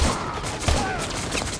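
Burst of gunfire in Call of Duty: Modern Warfare 2, a quick fusillade of sharp shots with one louder crack mid-clip, heard alone without talk.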